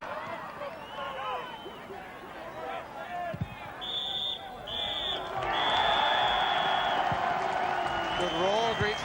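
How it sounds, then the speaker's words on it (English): A football crowd roars and applauds in a large open stadium at the half-time whistle, swelling louder partway through, with a whistle-like tone and a commentator speaking over it. "Good roar greets the half-time whistle."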